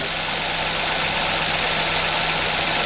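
A car engine idles loudly and steadily, a constant close rumble with a faint hum, no pauses or voices.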